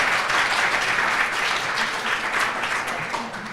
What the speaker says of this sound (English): please do give them a big round of applause